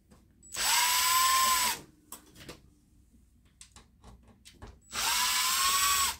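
A power screwdriver whirs in two bursts, each about a second long, while removing fine thread screws from a 17-inch black-and-white Apple monitor, with small clicks and handling noises in between.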